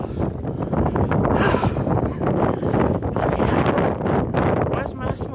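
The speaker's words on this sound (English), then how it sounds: "it's windy as well" Strong wind buffets the microphone on a steep hillside, a loud continuous rumbling roar with gusty surges throughout.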